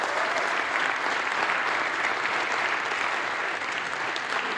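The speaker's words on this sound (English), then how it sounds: "give a big round of applause" A crowd applauds a special guest from the USA, a board member, at a charity gathering: steady, dense clapping, loud and close, running unbroken throughout.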